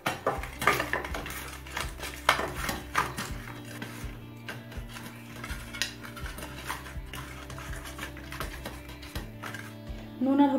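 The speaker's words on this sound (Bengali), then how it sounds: "এবারে নুন হলুদটা মেখে নিচ্ছি।" A fish head is mixed with salt and turmeric in a bowl, with repeated clinks and knocks of metal utensils against dishes in an uneven rhythm and occasional louder taps, close up.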